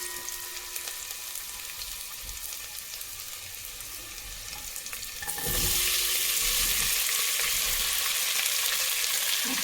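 Garlic and ginger frying in a pan for malai kofta curry, a moderate sizzle with stirring that suddenly swells into a louder, brighter hiss midway and stays intense, without talk.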